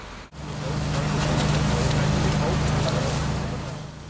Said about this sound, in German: Mit einem Traktor eines benachbarten Landwirts wurden teils verbrannte Ladewagen aus der Ruine gezogen